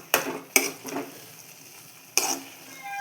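Ground coconut paste stirred into cooked beetroot in a pan: a few sharp spoon scrapes and knocks against the pan over a faint, soft sizzle, close by and fairly quiet.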